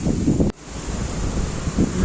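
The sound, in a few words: strong wind at a temple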